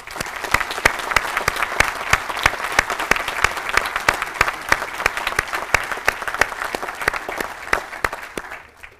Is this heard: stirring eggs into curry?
no